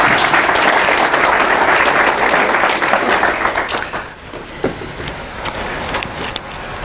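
An audience at a talk on freelance data science applauds to welcome a speaker to the stage. Loud, dense clapping from a full room lasts about four seconds, then thins to scattered claps.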